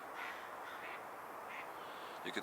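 Crows cawing around a pond on a cold late-autumn morning, a steady wash of calls at moderate distance with a sharper, louder burst close by at the very end.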